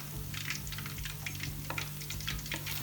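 Fish pieces fry in hot oil in a Pakistani Lahori-style fish fry, a continuous close crackling sizzle with scattered bright pops and a low steady hum underneath, no voices.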